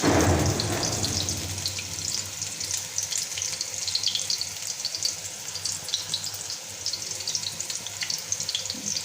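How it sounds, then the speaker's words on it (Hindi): Pieces frying in oil in a pan while a curry is cooked at home, a steady bright sizzle and crackle that runs continuously with no one speaking. "सारे डाल के इसको हल्का हल्का सा फ्राई करूँगी"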